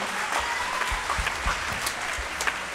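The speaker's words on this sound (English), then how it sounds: "So if everyone could give them another round of applause." An audience at a school district winter chorus concert applauds the chorus students, a full, even round of clapping with a few sharper claps standing out, sustained to the end.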